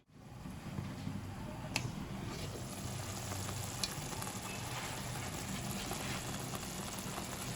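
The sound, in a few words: spinach being sautéed in a pan for palak paneer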